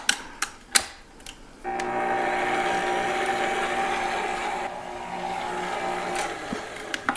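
Cheddar garlic soft pretzel dough being mixed: a few sharp clicks and knocks, then a steady, loud mechanical whir with a humming tone that runs for about five seconds and eases off near the end.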